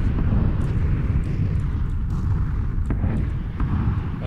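Explosions in PlayerUnknown's Battlegrounds: a loud, continuous, dense rumble of blasts and debris that stays at steady high volume throughout, with occasional sharper cracks.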